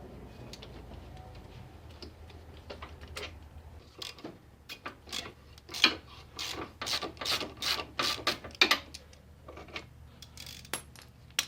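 A 3/4 inch ratchet loosens the lower shock mount bolts on a Harley-Davidson Electra Glide, giving a quiet run of rapid clicks that thickens into a steady ticking ratchet rhythm in the middle, close by, with no talking.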